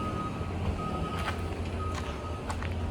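Intermittent high reversing beeps from a skid steer working on new driveway construction sound at a distance over a steady low engine rumble, with several faint tones spaced through the clip.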